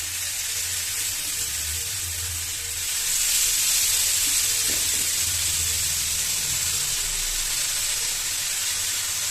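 Chicken dropped into a hot pan sizzles with a steady, bright hiss that swells louder partway through and keeps going evenly, with no talking.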